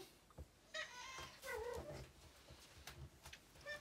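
A pet cat makes a faint, close meow-like call with a wavering tone in a quiet indoor room, joined by soft scattered clicks and rustles and no talk.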